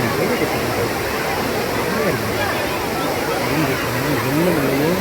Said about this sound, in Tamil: நீர்வீழ்ச்சிகள் அருமையான நீர்வீழ்ச்சி.